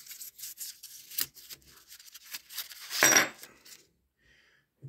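An old coin is handled up close, with light metallic clinks, scrapes and rubbing in short irregular bursts, one louder clatter near the end, then near silence.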